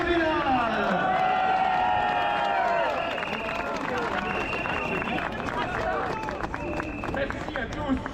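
A crowd at a Paris peace march applauds and cheers amid a loud babble of voices, with whistles and shouts layered over continuous clapping.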